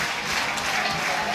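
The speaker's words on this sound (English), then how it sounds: "Jack Ross getting fantastic cheers from the crowd there" Stadium crowd applauding and cheering for Jack Ross at a championship celebration, a dense continuous wash of clapping and noise held steady throughout.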